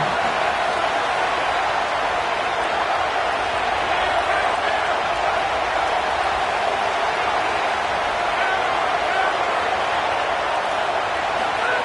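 Crowd noise at an Indiana versus Georgia college football game, a dense continuous roar filling the stadium, loud and steady throughout, with no distinct talk standing out.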